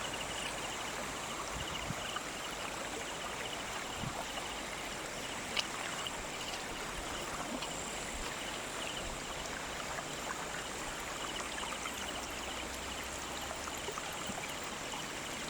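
A clear river flows steadily over stones in a rural area, its broadband rushing and trickling sound continuous and close for the whole stretch, with no voices.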